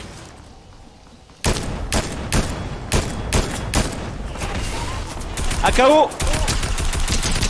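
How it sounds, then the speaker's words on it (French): Rapid gunfire bursts in the video game Fortnite start abruptly after a quiet second and continue in loud repeated volleys, with players talking over the shooting. "Ça tire au-dessus."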